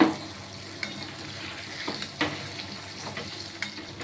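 Sautéed meat for a spice-free white mutton gravy sizzles in a pot as water is added, a loud initial splash-hiss settling into a soft, steady sizzle with occasional clinks of a spoon, no voices.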